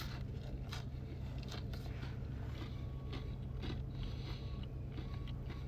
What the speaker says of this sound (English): right off rip, nice crunch on the crust.